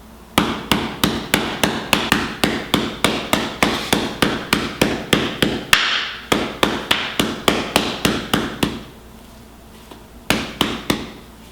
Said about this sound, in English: Some people only like to lightly bruise theirs, so that would be something like this,